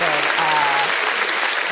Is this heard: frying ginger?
no